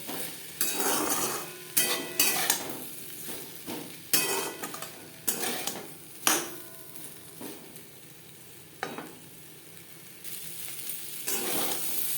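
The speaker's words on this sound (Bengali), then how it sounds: "চালের সাথে পেঁপে বেশ ভালো করে মিক্সড করে দেবো" Papaya pieces and rice stirred together in a hot pan over low to medium flame, with a steady sizzle broken by repeated scraping strokes and metal clinks, close up and without any voices.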